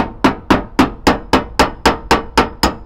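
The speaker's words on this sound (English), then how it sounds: "hold it like that right up the back until the lip is square against the back, and hammer away" Ten sharp, evenly spaced hammer blows on a car's metal wheel arch lip, ringing briefly after each strike in a steady, brisk rhythm, loud and close.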